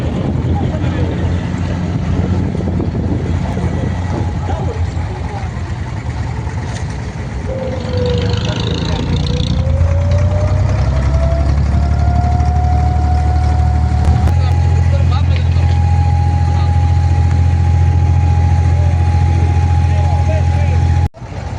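Boat engine running during a ride, a steady loud drone that rises in pitch as the boat speeds up and then holds a constant whine, with voices talking over it.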